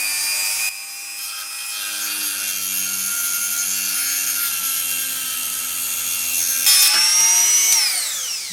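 High-speed rotary power tool cutting a part off a Hornby T9 model locomotive, a loud continuous whine that rises and dips in pitch as the cut bites, ending with a falling spin-down.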